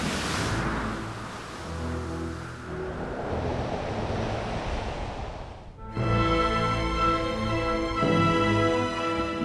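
Steady roar of wind and surf at sea during the Volvo Ocean Race sailing race, joined halfway through by a low droning hum, loud and continuous with no voices.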